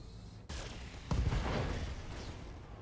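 A mech's ammunition cooks off in BattleTech, the blast arriving as a sudden loud burst with a dense low rumble that holds steady and fades slowly, following a softer opening crack.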